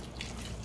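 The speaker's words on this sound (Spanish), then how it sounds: "voy a agregar agua hasta tapar completamente" Water poured into a pot of cooking vegetables with softened, glassy onion, a soft continuous trickle and splash held at low level throughout, with no talk.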